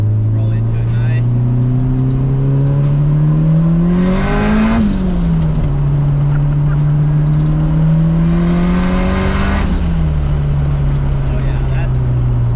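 A fully built SR20-engined Nissan S13 revs up loudly and close, pitch climbing through two gear shifts as it accelerates hard.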